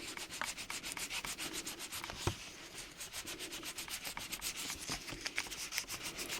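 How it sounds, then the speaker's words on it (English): Fine 1000-grit sandpaper sands a small toy car body in quick back-and-forth strokes, a dry, rhythmic rasping that repeats steadily and sounds close and soft, with no talking. "And then I've got this 1000 grade. I can go up to 1500 with my little bits of sandpaper."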